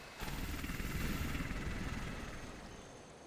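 A helicopter gunship unit from the game Civilization 5 gives a loud, continuous rotor and engine roar that starts abruptly, holds steady, then eases slightly toward the end, alone without talk.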